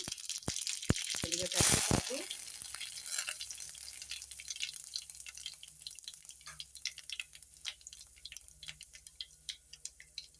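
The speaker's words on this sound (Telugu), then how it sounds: "ఇప్పుడు ఇందులో తాలింపు గింజలు అయితే వేసుకుంటున్నాను" Tempering seeds hit hot oil with a loud burst of sizzling and crackling, which settles into a steady spitting fry with scattered pops.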